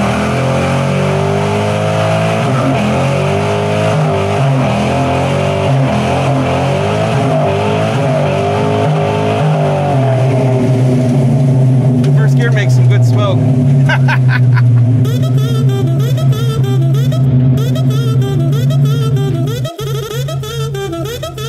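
A muscle car's engine revs hard through a burnout while hitched to a trailer, a loud sustained roar with shifting pitch and tire squeal building toward the end, with people talking over it.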